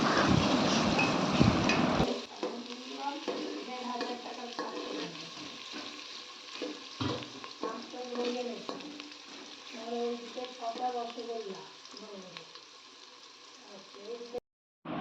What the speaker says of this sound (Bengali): তো পেঁয়াজগুলো প্রথমে ভালো করে ভেজে নেব